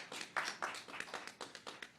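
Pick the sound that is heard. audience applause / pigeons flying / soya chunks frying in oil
audience applause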